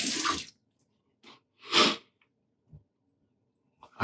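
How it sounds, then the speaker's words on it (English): A brass safety razor rinsed under running water: short separate splashing bursts, one longer gush in the middle, with quiet pauses between and no talk. "let me just rinse out this razor and give you one last look at it"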